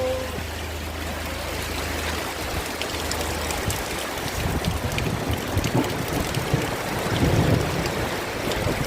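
Rain with hail pours steadily in a dense, hissing wash, with a low hum fading out early and gusty surges building toward the end.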